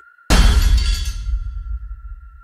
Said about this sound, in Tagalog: Akala niya nahulog lang ang isang plato o kaldero.